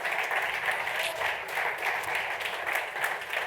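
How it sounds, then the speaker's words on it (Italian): Forum audience in Modena welcomes founder Fabio Ferrari onto the stage with a steady, moderately loud wave of clapping that holds evenly throughout, with no talk on top. "invitando sul palco il nostro fondatore e amministratore Fabio Ferrari, a cui vi chiedo un applauso."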